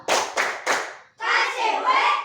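A classroom of students claps the "tepuk wow" routine: three sharp group claps in a steady rhythm, then the class chants loudly together, close and lively.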